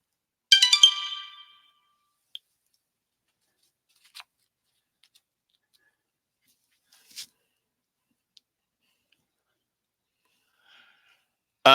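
Comic book cataloging phone app scanning a barcode: a short, bright electronic chime near the start, then near silence broken by a few faint handling clicks.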